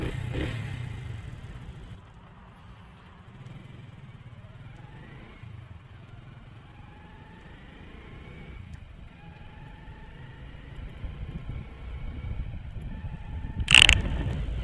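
A cold Honda CD 70 motorcycle with its choke raised idles and runs at a low, steady putter, with a clattering start near the beginning and a sharp mechanical clunk near the end.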